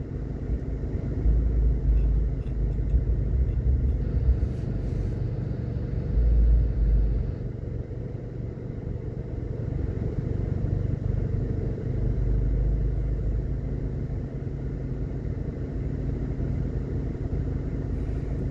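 Monday morning street traffic in New Kingston, Jamaica: a steady low rumble of passing cars and engines, with heavier surges early and midway, continuous and moderately near.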